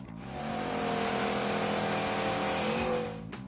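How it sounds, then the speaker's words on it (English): A Ford Fox Body Mustang engine revs hard and steadily for about three seconds, a loud, continuous rising drone with a brief drop near the end, as if passing close by. "Ford answered it up with one of its most iconic cars to date,"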